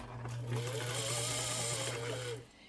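A 1927 Singer 99 sewing machine with knee lever and domed top runs in one steady, close burst of rapid mechanical whirring and needle clatter, lasting a couple of seconds before it stops.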